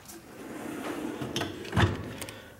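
A deep drawer on a Homak H2Pro 72-inch steel tool box slides open or shut with a soft rolling rumble and a muffled clunk near the end, quiet and close.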